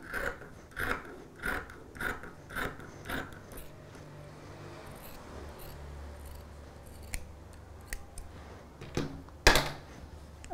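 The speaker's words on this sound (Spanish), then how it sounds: "y paso tijeras." Scissors snip through material while a doll-themed candy box is assembled, giving a run of six or seven evenly spaced, close crisp cuts, then quieter rubbing and handling, ending with one sharp louder snip.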